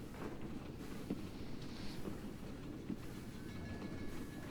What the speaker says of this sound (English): Once everybody's situated, the train starts picking up.